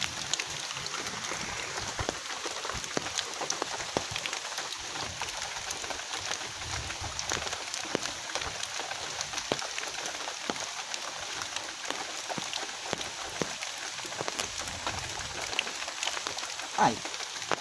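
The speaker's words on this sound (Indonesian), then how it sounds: "Hujan." Steady rain falling on a surface outdoors by a ditch, a continuous faint hiss of drops with scattered louder patters throughout.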